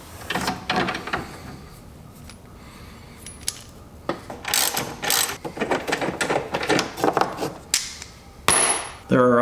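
Ratchet and wrench work on 10 mm bolts with broad flat washers, removed from the floorboard of a John Deere 1025R compact tractor: scattered metallic clicks, clanks and scraping taps at close range, irregular and moderately loud.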